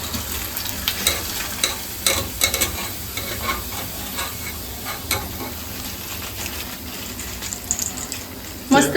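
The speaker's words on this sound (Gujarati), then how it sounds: "મસ્ત મજાના ભૂંગળા તળાઈ રહ્યા છે." Bhungla fry in hot oil with a dense, continuous sizzle, broken by light clinks and stirring scrapes, loud and close throughout.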